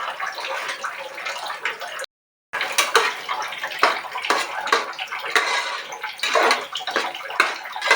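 Water heats in a pot for green palav, giving a steady close bubbling and rushing hiss that runs almost without a break, interrupted only by one brief silent gap.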